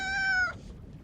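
A single close cat meow, rising then trailing off within half a second, followed by quiet.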